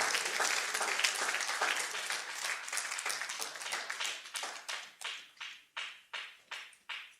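A church congregation applauds the Lord, dense clapping at first that thins out into slower, spaced group claps, ending in a few loud rhythmic claps.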